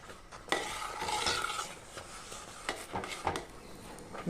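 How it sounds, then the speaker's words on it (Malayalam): Arrowroot payasam with cardamom, cumin and ghee-fried coconut pieces is stirred as it thickens in a pot, giving soft, uneven scraping and sloshing strokes, fairly close and moderately quiet, with no talking. "ഒന്നും കൂടെ ഇളക്കി കുറുക്കിയെടുക്കാം"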